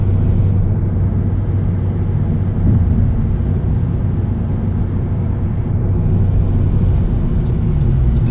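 A 2017 Honda Civic Si with a manual clutch drives along, heard from inside as a loud steady low engine and road rumble with no talking.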